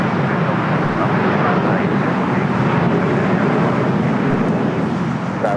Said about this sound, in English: The next takeoff here on the south side at 25 right.